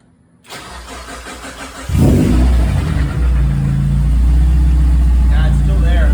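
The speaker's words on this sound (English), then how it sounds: "So I'm gonna hit engine start." A Mazda Miata with a suspected engine knock cranks and fires up, settling into a loud, steady idle rumble that continues to the end, with people talking nearby.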